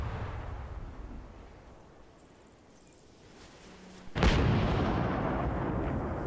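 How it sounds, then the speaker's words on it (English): Two guns firing in a video game come through as one loud, sharp blast that booms and slowly fades. Before it there is a quieter stretch of low rumbling ambience. No voices. "Both guns are firing."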